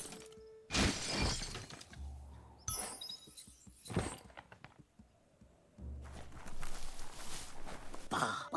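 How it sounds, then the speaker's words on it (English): A wooden box being smashed in the Biomutant video game on PS5, with a few loud crashing breaks and scattered debris clatter separated by quieter stretches of game ambience. "You shouldn't worry about smashing up the box."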